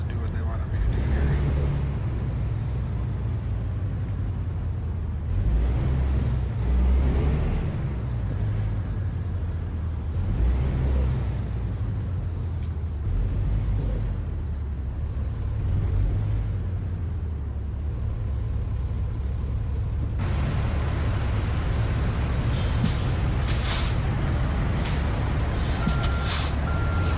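A semi-truck in American Truck Simulator reverses to park, its reversing beeper pulsing in a steady rhythm over a low diesel engine rumble, with sharp hisses of air brakes near the end.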